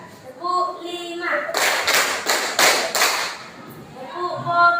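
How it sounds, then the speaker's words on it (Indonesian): Schoolchildren in a classroom clap together in a counting rhythm, five loud sharp group claps in a row spaced about half a second apart, with a teacher's voice before and after. "Tepuk 1, tepuk 2, tepuk 3, tepuk 4,"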